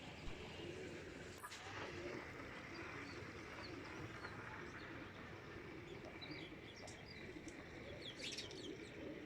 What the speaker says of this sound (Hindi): पर कबूतर सही उड़ रहे हैं।